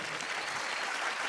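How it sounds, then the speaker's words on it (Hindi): Audience applause for Munni at a Bollywood awards show, a thick, continuous wash of clapping from a large crowd, steady and loud throughout. "एक बार मुन्नी के लिए जोरदार तालियां।"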